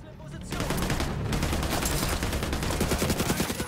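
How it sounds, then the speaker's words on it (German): Sustained video game gunfire in The Division 2, a dense rapid stream of automatic shots that starts abruptly and runs on loud and close without a break. "Schicken wir dem einfach mal ein paar Kugeln."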